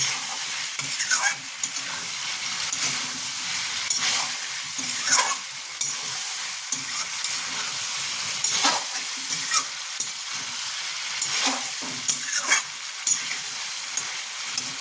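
Chicken stew sizzles as it is stirred and sautéed in a pan, a constant close frying crackle with repeated scraping strokes of a spoon.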